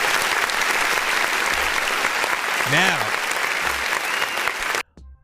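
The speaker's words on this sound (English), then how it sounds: "let's clap for that" Dense, sustained applause from an audience at a music review show, steady and loud for about five seconds before cutting off abruptly; a brief voice and a rising whoop sound over the clapping.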